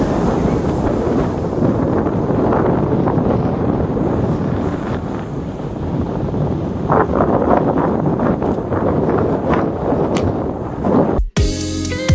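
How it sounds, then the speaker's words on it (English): Strong wind at Machans Beach near Cairns, Australia, roars and buffets the microphone continuously, a heavy rushing blast with no voices, ending in a brief sharp knock. "It's extremely windy today."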